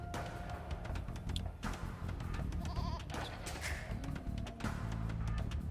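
Sheep bleat in Age of Empires II: Definitive Edition, with short game calls over a busy, steady bed of in-game sound and effects, fairly quiet overall.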